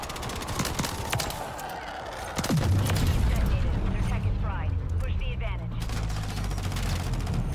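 Gunfire rattles in Call of Duty MW3 multiplayer, with repeated shots and bursts over a booming game soundscape. The firing runs throughout, louder after a sudden impact, while players talk over it.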